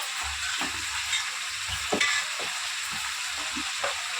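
Gongura chicken frying in oil in a pan, a steady close sizzle with soft scraping stirs throughout.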